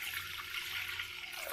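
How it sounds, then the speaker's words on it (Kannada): Water runs steadily from a tap or jug onto washed masoor and toor dal lentils in a pressure cooker, a continuous close splashing pour with no talk. "ಇದಕ್ಕೆ 1 ಲೋಟದಷ್ಟು ನೀರು ಹಾಕ್ತೀನಿ ನಾನೀಗ."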